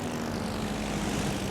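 Steady propeller engine drone of carrier aircraft in the naval battle game World of Warships, a continuous moderate hum with no talking.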